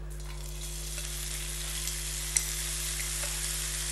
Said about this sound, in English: I'm going to put my bacon into it so that it sizzles